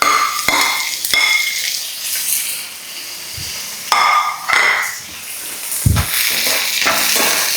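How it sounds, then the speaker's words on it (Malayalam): Tomatoes sauté in a pan for a fish curry, a steady close sizzle broken by scraping and clinking of a spatula against the metal pan and occasional heavier knocks. "തക്കാളി ഇട്ടിട്ട് ഇതൊന്ന് വഴണ്ട് വരണം."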